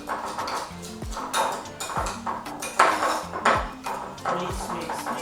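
A spoon working brown sugar around a pot, giving repeated close scraping strokes with sharp metallic clinks against the pot's sides.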